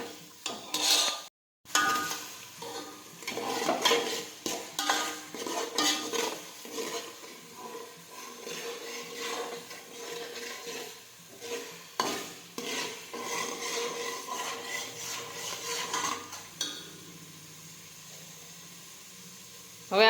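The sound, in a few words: sautéing pav bhaji vegetables in a pan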